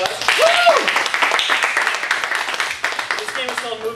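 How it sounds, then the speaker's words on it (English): Comedy club audience applauding two volunteers called up during an improv show, dense clapping with cheers and whoops mixed in, a voice rising briefly over the crowd near the start. "Give Joe and Amber a round of applause."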